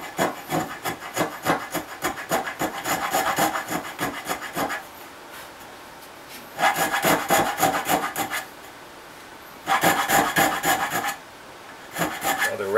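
A rasp files the tip of a wooden speargun muzzle in bursts of fast, rough back-and-forth strokes, loud and close, with short pauses between passes.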